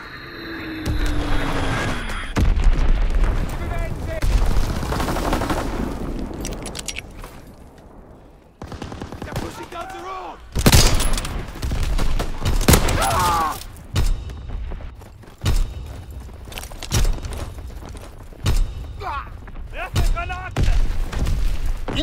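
Incoming enemy artillery pounds a video-game battlefield with repeated loud booms and blasts, mixed with gunfire and shouting voices throughout.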